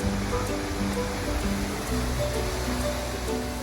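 The Pala-U waterfall rushes with a steady, dense roar of falling water, loud and constant, with faint tonal sounds drifting over the wash.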